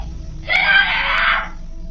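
A girl screams from inside a house at men standing at the door, a single sharp, piercing scream lasting about a second that rises out of quiet background and then cuts off.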